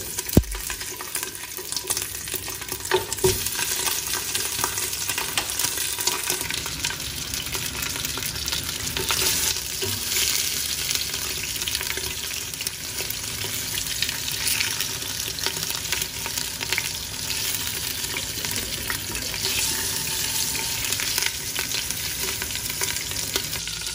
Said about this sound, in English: I'm going to add some olive oil, and we're gonna sear the ribs